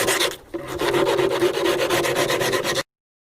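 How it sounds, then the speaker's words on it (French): Abrasive hand rasping on the rough, rusty wooden parts of an old horse carriage, with repeated back-and-forth strokes close up, a short pause near the start, then steady rubbing that stops abruptly. "donc on va poncer."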